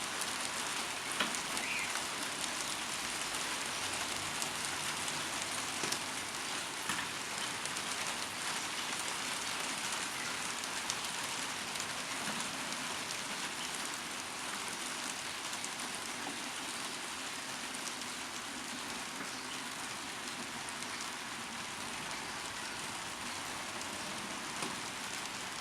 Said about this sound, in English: hopefully you can hear me okay over the rain.